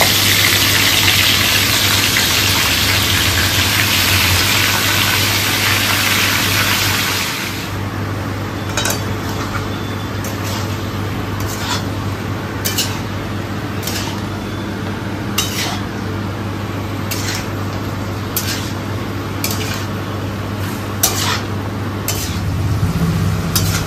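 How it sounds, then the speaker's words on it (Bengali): Meat frying in a wok gives a loud, steady sizzle and roar for several seconds, then settles to a lower hiss with repeated metallic scrapes and clinks of a spatula against the pan. "একই কড়াইতে মাংসটা একটু ভাজা ভাজা করে নেবে।"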